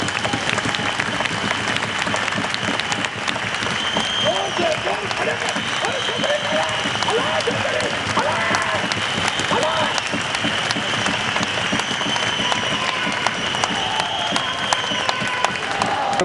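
A standing audience at a convention for homeless poor people in Pakistan bursts into sustained, dense applause that fills the hall for the whole stretch, with a voice talking over the clapping.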